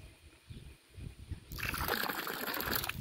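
A water pump starting up and pushing water mixed with air, a quiet rumble that suddenly bursts into a loud, continuous sputtering gush of splashing liquid halfway through.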